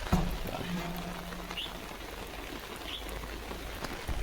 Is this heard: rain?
yes